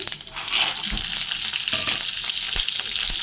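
Tempering spices frying in hot oil for lemon rice, a steady close crackling sizzle with a few sharper pops and bursts of louder spitting once the seasoning hits the oil.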